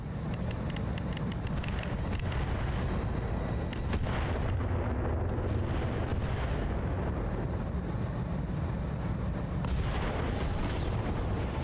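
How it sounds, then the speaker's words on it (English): Mech ammunition explosion in the Battletech video game (Roguetech mod), a dense, loud booming rumble with sharp bursts running through the whole stretch, layered with battle noise. "Rack 5, ammo explosion."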